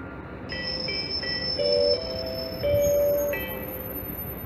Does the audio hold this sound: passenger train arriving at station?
yes